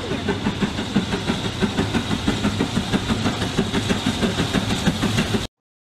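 A steady rhythmic chugging rumble, like a train running along the tracks, continuous and fairly loud before stopping abruptly.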